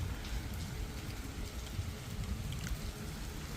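Steady rain pours down outdoors during a heavy Thai downpour, a dense continuous hiss of drops on surfaces that holds at even loudness throughout with no voices.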